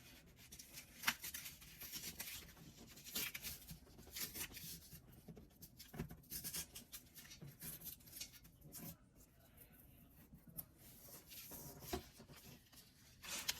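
Scissors cutting a sheet of US letter printer paper, soft scratchy snips and rustling paper handling at close range, quiet and irregular, with no talk.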